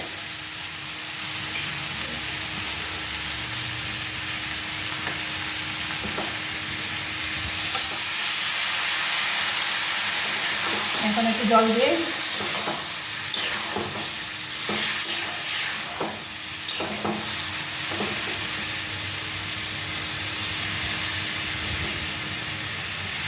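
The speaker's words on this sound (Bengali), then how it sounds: "এই দেখো এখন একটু জল দিয়ে" Water is poured into a pan of frying vegetable curry with banana and bori, a vegetarian dish, setting off loud sustained sizzling with steady stirring scrapes and a few sharper clanks partway through.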